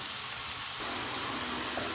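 Two large chopped onions fry in a pan, giving a steady, even sizzle at a fairly low, close level with no talking over it.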